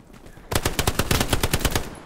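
Rapid automatic gunfire from Hell Let Loose, a close, loud burst of about a dozen quick shots firing in an uneven rhythm after a brief quiet start.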